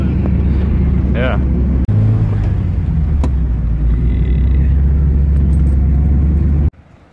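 A Toyota Corolla drives along with a loud, steady engine and road roar and wind rushing through an open window, while voices talk over it, before the noise drops abruptly near the end.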